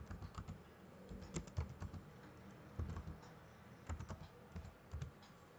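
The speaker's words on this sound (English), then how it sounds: "now type the text" Keys on a computer keyboard are typed in short, uneven clusters of soft clicks, close but fairly quiet, with brief pauses between bursts while entering text for AutoCAD 2018.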